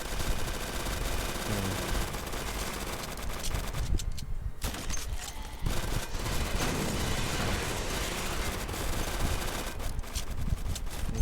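In the video game Zombie Uprising, players shoot at a boss with dense, rapid gunfire that crackles almost continuously and loudly, easing only briefly in one short lull.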